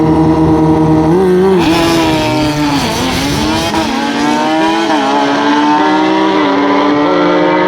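Loud drag racing motorcycles roar at a bike night championship final, engines howling and revving with sustained, shifting pitch that swells sharply as they launch and keeps blaring close by throughout, with no talk.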